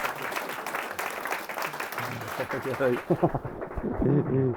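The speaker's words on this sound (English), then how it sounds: "I think a big round of applause for my ladies." Guests at a wedding ceremony applaud in a dense burst of clapping that fades as a speaker's voice takes over.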